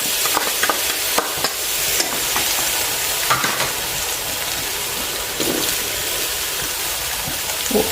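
Sausage stir-fried in a pan for mixed fried rice over medium-low heat, giving a steady close sizzle with scraping stirs and bursts of crackling throughout, with no talking.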